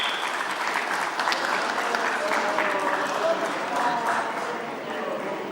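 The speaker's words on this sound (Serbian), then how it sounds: "ajmo aplauz još jedan veliki za Pečurku" Audience applause from a crowd honoring a fisherman's catch at a weigh-in, a steady dense clapping wash that holds evenly at full loudness throughout, with voices mixed underneath.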